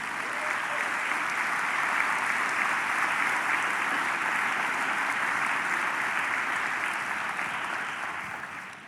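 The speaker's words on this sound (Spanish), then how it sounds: "Oh, dale un aplauso al Señor." A church congregation applauds the Lord during a sermon, a sustained, even roar of many hands clapping that holds for nearly nine seconds before easing slightly at the end.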